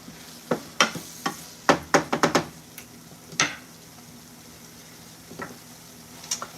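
Ingredients for homemade chili sauteing in a pan, with a soft steady sizzle beneath a series of sharp stirring clicks and scrapes, clustered early and then sparse, close and fairly quiet.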